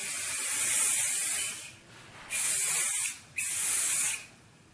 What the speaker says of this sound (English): I'm gonna do one final spray.